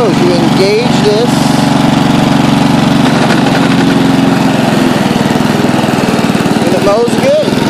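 A Toro self-propelled, electric-start lawn mower runs steadily and loudly close by, its engine drone continuous throughout, with a person talking over it at moments.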